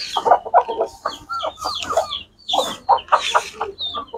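Clucking of a hen with her chicks on a poultry farm, repeated soft calls in short bursts with a brief pause midway, close by and fairly loud.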